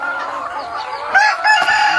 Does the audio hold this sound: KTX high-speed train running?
no